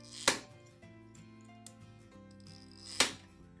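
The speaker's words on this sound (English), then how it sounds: "Turn shear adjuster nut counterclockwise 3 audible clicks." Two sharp, isolated clicks from a shear adjuster nut on an ADB 22X air disc brake being turned counterclockwise, spaced a few seconds apart and heard close up over a quiet workshop background.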